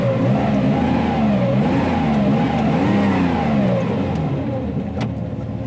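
An old Porsche 914/6 engine revs steadily, its pitch rising and falling in slow waves, loud and close throughout.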